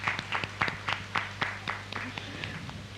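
A small audience at a panel discussion on arts institutions and community claps in a brief, thin round of applause, with separate hand claps standing out over a low steady hum.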